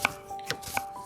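A kitchen knife chops onions with three crisp, evenly spaced strikes, sharp and close in a quiet outdoor setting.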